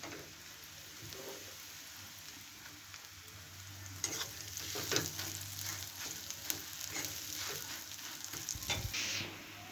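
Mashed potato stirred and fried in a pan for Bengali aloo chop, a steady soft sizzle with scraping and stirring scuffs that grow busier partway through, close and without speech.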